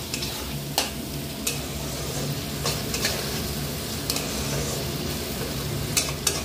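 Spice masala being stirred as it fries in oil for Bengali chicken bahari, with a steady close sizzle and repeated scraping strokes of the spoon against the pan throughout.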